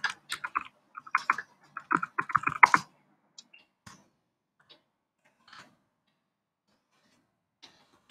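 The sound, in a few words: typing on a computer keyboard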